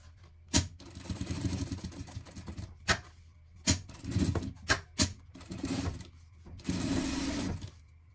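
A sewing machine stitches a pet harness in short bursts of rapid mechanical whirring, broken by pauses and sharp clicks, close-up with no talking.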